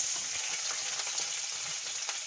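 Onions hit hot fat in a kadai and sizzle loudly and continuously, a dense bright crackle close by with no pauses.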